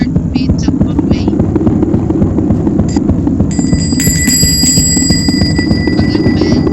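A bell chimes in the Roblox horror game Kajero, set in catacombs, ringing as a sustained bright tone that starts midway and layers into a second higher ring, over a constant dense game rumble and music.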